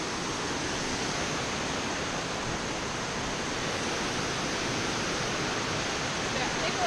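Tolofofo Falls in Guam pours as a dense, unbroken roar of falling water, steady and loud from start to finish with no breaks.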